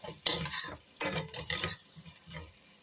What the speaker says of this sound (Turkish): Tekrar salçanın kokusu çıkıncaya kadar kavuruyorum.